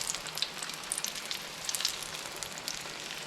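A chile relleno fries in browned butter and oil, giving a dense, bright, continuous sizzle with frequent sharp pops and spits close by.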